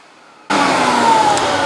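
A Camvac dust extractor switches on with two motors running, jumping from near silence into a loud, steady broadband roar that holds for the rest of the moment.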